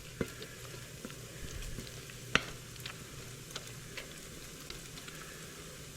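Pancetta frying in a pan for spaghetti carbonara, a steady close sizzle with scattered sharp crackles and pops, no talking.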